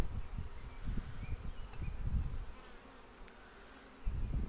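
A dense, low hum of many honeybees buzzing close by at an open hive, steady with rising and falling swells and faint rustling, no speech.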